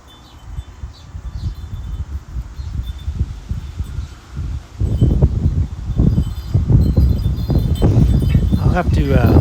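Breezy outdoor wind near a railway interchange, gusting and buffeting steadily at close range, growing stronger and rougher partway through, with low rumbling and rustling throughout.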